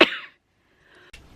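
One person gives a single sharp cough at the start, then falls quiet, and a brief soft throat noise follows near the end.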